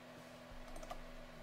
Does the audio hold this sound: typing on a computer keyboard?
yes